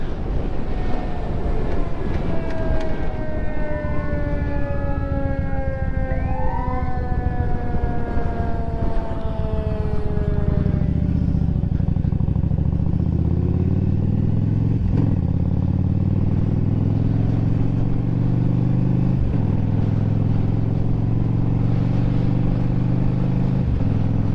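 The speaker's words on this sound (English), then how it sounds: "Looks like an ambulance is coming." An ambulance siren wails as it passes nearby, its tone sweeping up and down and dropping in pitch as it goes by, while the rumble of traffic grows louder underneath.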